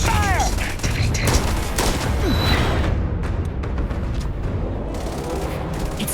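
Rapid sci-fi weapon fire aimed at Terrormorphs in the game Starfield, a dense, loud barrage of overlapping shots and impacts that thins briefly midway and then picks back up, with no voices over it.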